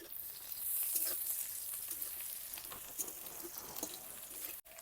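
Crushed garlic cloves frying in hot oil in a pan with chillies and onions for a jute leaf curry, a steady close sizzle with soft crackles and no talk.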